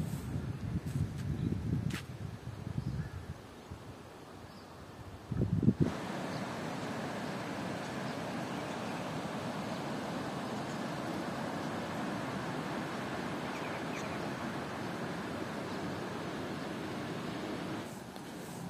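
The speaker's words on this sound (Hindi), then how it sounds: "अभी देखें हवा चलनी स्टार्ट हो गई है" Wind blows in a steady, hissing rush in Upper Neelum village, a mountain village in Pakistan, near and loud for most of the stretch after some brief handling noise at the start.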